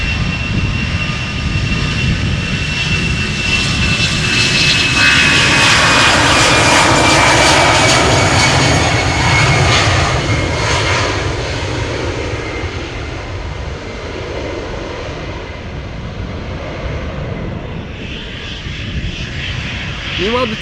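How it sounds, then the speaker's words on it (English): An EasyJet Airbus A319 departing Amsterdam Schiphol, its jet engines roaring loud and close, swelling then slowly fading as it climbs away, with a voice talking over part of it. "EasyJet A319 going to"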